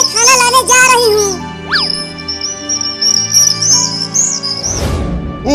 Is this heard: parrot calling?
yes